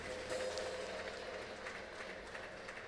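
A church congregation at a Portuguese-language service claps together in a continuous wash of applause, fairly faint and slightly distant, with no talking.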